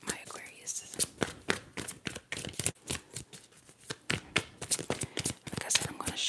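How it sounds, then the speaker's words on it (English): Tarot cards shuffled by hand in a close, quiet ASMR setting, giving a run of soft crisp riffles and taps that repeat steadily throughout, some whispery brushing mixed in. "I'm gonna shuffle till like one pops"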